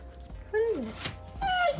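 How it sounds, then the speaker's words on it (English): Dogs outside a window in a mountain town freaking out, giving a few high-pitched whimpers and yips, fairly faint and distant, with people talking over them. "Doggos freaking out."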